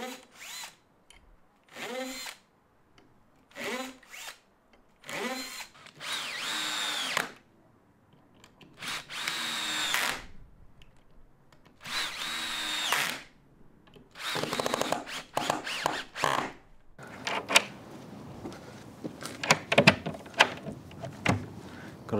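Cordless power drill driving four screws into a newly hung wooden workshop door, several loud whirring bursts of varying length separated by pauses, close up with no talking.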